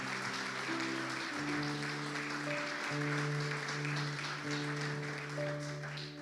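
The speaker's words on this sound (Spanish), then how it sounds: "Dale un aplauso al Señor." A church congregation applauds steadily at a sermon, the clapping blending with sustained keyboard or organ chords that shift pitch underneath.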